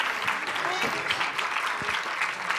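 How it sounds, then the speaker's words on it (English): Audience clapping fills a ceremony hall at a 90th birth anniversary celebration, honouring a group of student performers. Dense, steady applause runs throughout at even loudness, with a few faint voices mixed into the crowd. "I request all of you to give them a huge round of applause for their wonderful dedication"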